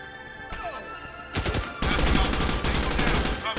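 Heavy gunfire in the tactical shooter game Door Kickers 2: a couple of isolated shots, then sustained loud rapid machine gun fire dense with overlapping reports.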